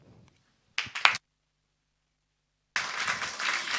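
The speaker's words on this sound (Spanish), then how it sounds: "El aplauso al municipio de Los Toldos" An audience at a municipal event in Los Toldos applauds, first with a short burst of clapping, then a pause, then a steady wash of applause from many hands.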